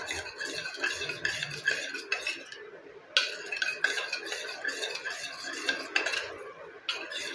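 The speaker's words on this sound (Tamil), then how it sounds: "இதை நல்லா முதல்ல மிக்ஸ் பண்ணி விட்டுருங்க." A spoon stirs a turmeric and wheat flour face pack paste in a small bowl, producing quiet, irregular scraping and clinking against the dish, close up and without speech.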